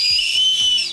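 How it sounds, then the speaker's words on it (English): A whistle sweet blown once in a single shrill, steady high-pitched tone lasting about a second, loud and close, then cutting off abruptly. "It's a whistle."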